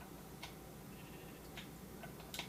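Sheep in the video game Minecraft give a few faint, short bleats over a steady low background hum, spaced irregularly across the moment with no speech.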